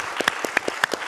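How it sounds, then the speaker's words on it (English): An audience at a business talk gives a brief burst of applause, a handful of distinct sharp claps in a quick uneven rhythm, close and fairly loud, with no speech. "I'm going to have you clap one more time"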